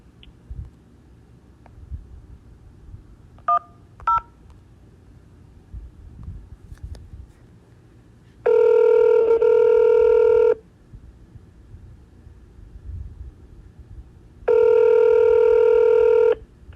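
Two long, loud keypad tone bursts on a phone line, each lasting about two seconds with a pause between, following a couple of short faint beeps over quiet line hiss.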